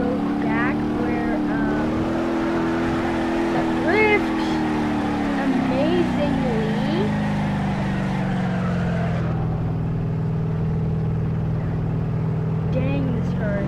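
Car engine revving and tyres skidding while drifting in the driving game BeamNG Drive, a steady droning engine note with rising and falling pitch, a person talking over it throughout.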